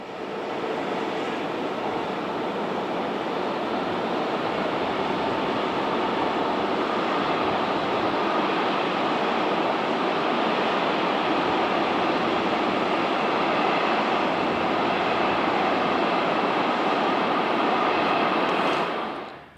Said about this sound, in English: Heading east is this SNCF BB 36000 electric, heading a cap train working, with tank tainers from Novara Bichetto Yard to Montava Frasina